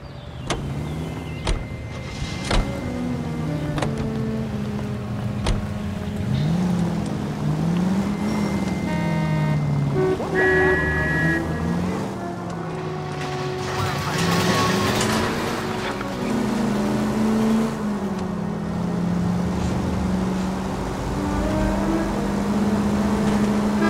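A car engine drives steadily in the video game L.A. Noire, its tone rising and falling with acceleration, alongside tire and road noise, occasional sharp knocks and brief tonal chimes throughout.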